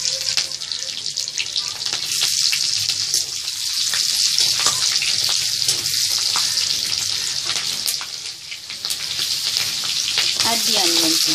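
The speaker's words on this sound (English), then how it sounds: "We add the green chilies." Green chilies fry for chilli prawns in hot oil, a loud, steady hiss and crackle of sizzling that continues throughout, with occasional stirring clatter close by.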